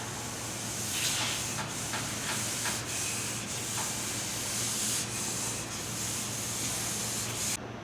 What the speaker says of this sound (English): Now I'm just going to trowel out the major imperfections